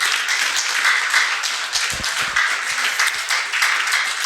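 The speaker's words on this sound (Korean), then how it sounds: "그 뜻이 옳으면 박수 부탁합니다." An audience at a talk on surviving the digital age applauds, a steady dense wash of clapping that stays loud and even for about four seconds with no speech over it.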